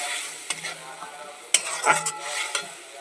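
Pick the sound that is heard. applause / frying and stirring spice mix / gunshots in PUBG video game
frying and stirring spice mix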